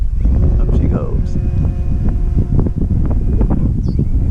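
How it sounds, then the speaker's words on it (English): Strong gusty wind buffets the microphone at an RC model airplane flying field, a heavy low roar with bursts and thumps, and a voice speaks under it. "It's pretty windy out here"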